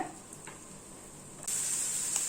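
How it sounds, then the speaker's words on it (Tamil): A large chopped onion hits hot oil partway through, breaking into a steady, bright sizzle that continues to the end after a quiet start, while making a masala omelette. "எண்ணெய் சூடானதும் ஒரு பெரிய வெங்காயம் இந்த மாதிரி பொடியா நறுக்கி போட்டுக்கோங்க"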